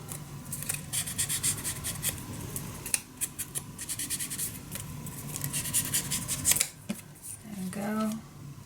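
Scissors snip repeatedly through a paper strip for a handmade scrapbook mini album, a close, quick run of crisp cuts with light rubbing and rustling, and a soft voice briefly under the cutting.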